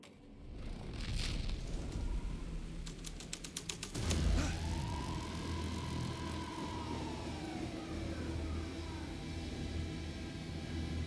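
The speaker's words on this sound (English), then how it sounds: "Police car. Important to the story." Police car siren in the game Alan Wake 2, a long wailing tone rising and falling over a steady engine-like rumble and dense ambient noise, preceded by a burst of rapid clicks.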